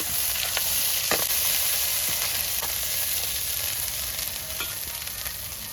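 Chicken pieces frying in a pan with onions and ginger-garlic paste for a drumstick chicken curry, giving a steady, close sizzle with occasional crackles and stirring clinks, no talk.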